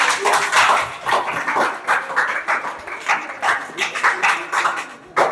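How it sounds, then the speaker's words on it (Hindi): Loud applause for a weekly test winner, with a crowd clapping vigorously in rapid, uneven bursts that swell and ease over several seconds, close and dense. "जोरदार ताली।"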